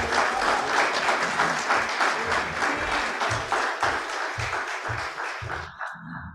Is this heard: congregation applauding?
yes